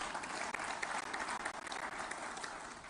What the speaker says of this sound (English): the Gujaratis deserve a huge round of applause from all of us